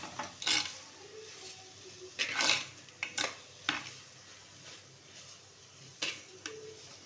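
A spoon clinks and scrapes intermittently against a pan while turmeric is stirred into a brinjal and tomato curry, several sharp metallic taps spaced over a quiet background.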